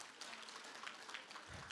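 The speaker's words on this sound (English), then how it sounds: "a round of applause for all of you guys and your commitment" Attendees at an evening community council meeting clap together, a short even patter of applause lasting under two seconds, fairly faint and without voices.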